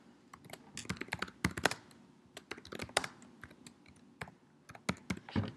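Fingers type a name on a computer keyboard, giving quick irregular clusters of close, crisp key clicks with short pauses between bursts, quiet and alone.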